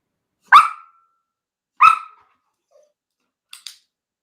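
Dogs bark outside, two loud, sharp single barks about a second apart, followed by a couple of fainter, quicker yips, with silence in between.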